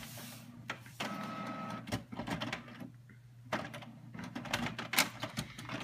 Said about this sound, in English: you're gonna turn on your printer.